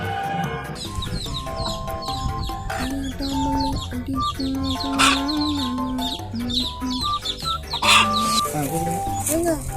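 Chickens cluck and squawk close by in short, uneven bursts, mixed with chirpy calls while people talk in the background.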